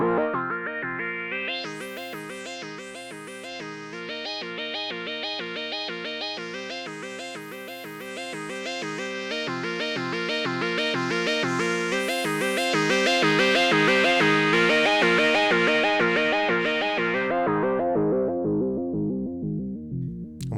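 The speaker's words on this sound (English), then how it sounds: "Obviously it's distorting it, but it's a very pleasant distortion, or as Rossum would call it, the good distortion." A modular synthesizer runs through a Rossum Evolution filter, pushed into a warm, pleasant distortion: a rhythmic sequence of bright, buzzy, harmonically rich notes that swells and sweeps, then fades out at the end, with no voices.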